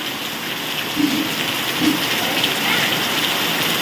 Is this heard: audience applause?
no